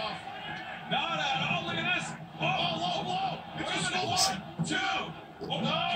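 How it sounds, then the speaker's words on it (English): A live wrestling crowd roars and yells wildly at a professional wrestling show, a dense, loud, sustained wall of cheering and whooping that swells in waves, with a commentator talking over it. "Crowd's going wild."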